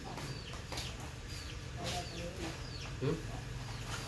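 Chickens cluck softly in a rural village yard, with scattered short clucks and chirps against faint background noise and one slightly louder call near the end.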